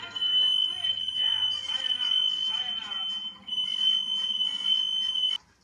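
A shrill, steady smoke alarm test tone sounds continuously, cutting off near the end, while people talk over it in the background.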